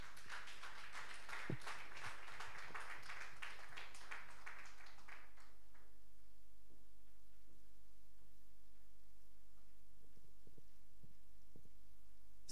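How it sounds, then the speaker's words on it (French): A church congregation claps during a Sunday service, a dense, continuous applause that ends abruptly about halfway through, leaving near-silence and a low steady hum. "Nous applaudissons pour le Seigneur"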